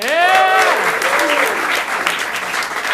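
A crowd at a Hideout Theater improv show applauds the troupe, with dense, loud, continuous clapping that stays level throughout while a voice calls out over it at the start.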